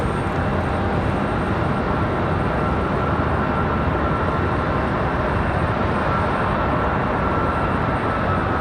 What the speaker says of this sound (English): Delta cleared for takeoff